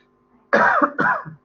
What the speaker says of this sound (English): Sorry, I need to cough into the mic.